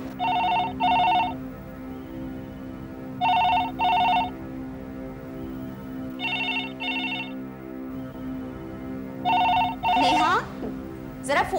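A telephone bell rings in paired bursts four times with steady pauses between them, over a low background hum in a home scene of a TV drama.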